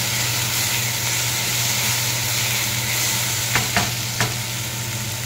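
Ground spices frying in a pan give a loud, constant close sizzle and hiss throughout, with a few short sharp scrapes of stirring near the end and no one speaking.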